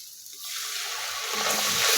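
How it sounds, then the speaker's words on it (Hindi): Water poured into a hot pan of lightly browned garlic fried with salt, chili and turmeric for dal chana, a rushing splash that swells and turns into a louder steady hiss and sizzle. "थोड़ा सा पानी डालते हैं।"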